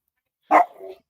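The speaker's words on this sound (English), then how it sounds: "That's a dog's barking." A single sharp dog bark, close and loud, trailing into a short softer yelp, with silence before and after.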